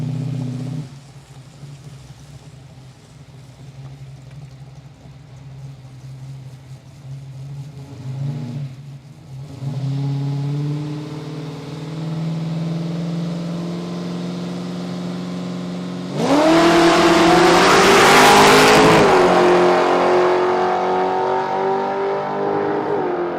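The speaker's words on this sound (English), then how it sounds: "So nice big burnout from Richard." A Ford Falcon drag car with a 393 stroker engine does a burnout at a drag strip test-and-tune night: a loud engine drone climbs steadily, then bursts into a harsh, roaring peak of revs and tire noise near the end.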